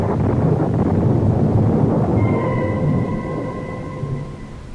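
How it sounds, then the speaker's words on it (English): A thunderstorm sound effect in a radio drama, a dense, loud rumbling roar that gradually eases off, with thin faint tones in the background as it fades. "But again the clouds are gathering and the storm is at my heels."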